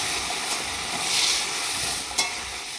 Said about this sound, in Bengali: তার সাথে মাছের মাথাটা কষিয়ে নিয়ে এখন দিয়ে দিচ্ছি সিদ্ধ করে রাখা ডাল